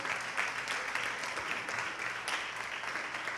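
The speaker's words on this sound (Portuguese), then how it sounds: "Vamos aplaudir ao nome de Jesus." A church congregation applauding during a sermon: steady, faint, distant clapping that fills the whole moment without pause.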